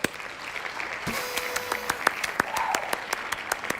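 A short applause sound effect plays on a livestream, with a burst of clapping and cheering that fades out over a few seconds.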